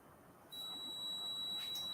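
A fridge door-open alarm sounding as a single sustained, high-pitched electronic beep tone that starts after a brief quiet moment and holds steady, faint and alone.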